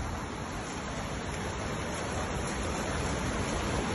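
Floodwater after a downpour near Keşan rushes along a stream bed, a dense, steady roaring wash with no voices.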